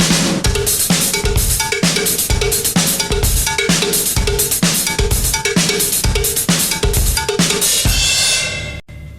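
A fast cowbell, hi-hat and kick drum groove in a metal drumming lesson, loud and steady with evenly spaced accented hits, ringing out alone before a brief cutoff at the end.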